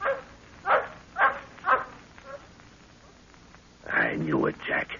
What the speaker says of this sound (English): All I heard was the yap of a native dog.